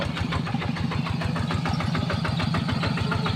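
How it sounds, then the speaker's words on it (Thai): A vehicle engine runs steadily and loud up close with a regular low throbbing pulse as it is driven downhill at the Khiang Na Phra Ko area, with no talking over it. "กำลังเอารถเข่าขับลงมาแล้ว"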